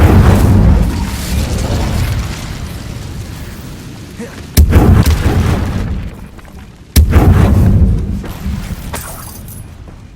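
Fiery spell blasts from Hogwarts Legacy, Incendio cast in combat: a loud roaring whoosh of flame opens, then two sudden booming bursts strike a few seconds apart, each fading into a crackling rumble. No talking.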